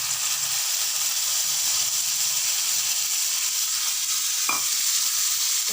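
Tamarind water hits a hot pan and sizzles in a steady, loud hiss, with a brief clink of a utensil near the end.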